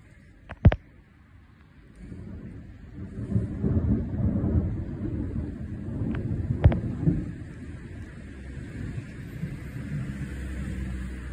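Sharp, close thunder cracks twice amid a heavy, rumbling storm directly overhead in Clermont, with steady rain and wind roaring underneath.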